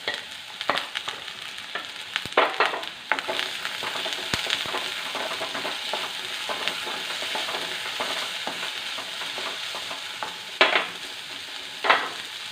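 Onion sautéing in a pan with ginger and garlic for a Kerala-style mango curry: a continuous sizzle with repeated scrapes and clacks of a spoon stirring, close and fairly loud, no speech.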